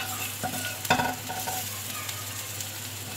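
Arvi (taro) leaves frying golden in oil, with a steady bright sizzle and a few sharp stirring clinks and scrapes near the start, close up and with no talking.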